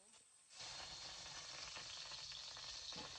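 Garlic hits a hot pan and erupts into loud, continuous frying sizzle after a brief quieter moment, the hiss staying steady to the end.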